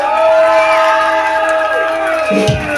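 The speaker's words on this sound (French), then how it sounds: "un tonnerre d'applaudissements pour notre fusée Zéphyr" A crowd at a live metal show roars and cheers loudly for a band member, a thick sustained wash of voices and whoops with scattered applause throughout.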